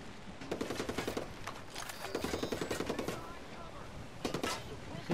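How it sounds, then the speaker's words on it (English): Rapid automatic gunfire in a military shooter video game, bursts of crackling shots repeating through the clip at moderate volume with steady background noise. "Ow, they're shooting me."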